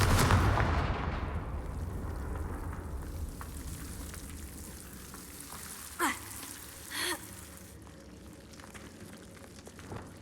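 Confringo blasting spells from the video game Hogwarts Legacy go off as a heavy boom at the start, followed by a rumbling, fading tail and two short crackling bursts later, with steady ambient noise underneath.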